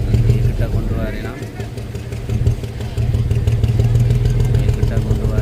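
A motor boat engine runs steadily and loudly close by as the boat is brought alongside on a sea crossing to an island, a continuous rumbling drone throughout.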